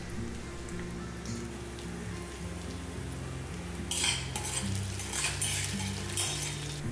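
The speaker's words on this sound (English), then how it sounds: "In 1 tablespoon oil, add chopped garlic and all the seeds and saute for around 1 minute." Chopped garlic and seeds sautéing in a tablespoon of oil, a soft, faint sizzle under steady background music, growing into brighter crackling bursts partway through.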